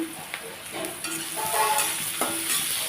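Pointed gourd (potol) frying with green chilies in a pan, a steady close sizzle broken by several stirring scrapes of a spatula.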